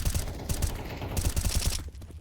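Rapid bursts of gunfire crackle in a competitive video game match, a quick volley of shots at moderate level over a busy background.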